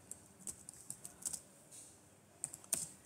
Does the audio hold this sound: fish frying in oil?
no